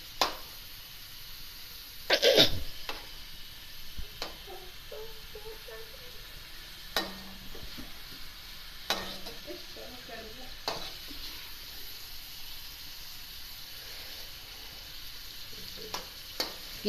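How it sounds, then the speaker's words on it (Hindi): Minced meat (keema) is being sautéed in a pan for aloo keema matar. A steady low sizzle runs throughout, and a spoon stirs and scrapes against the pan in occasional sharp clinks, with no talking. "इसको हल्का सा सौते करेंगे।"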